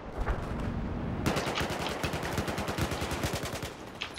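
Gunfire in the video game Battlefield 4: rapid automatic bursts crackle loud and dense from about a second in, over a constant rumble of battle noise.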